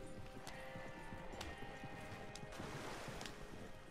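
Horse hooves clip-clopping in the video game Red Dead Redemption 2, a steady galloping rhythm with sharp hoof strikes over continuous ambient noise, with no talk.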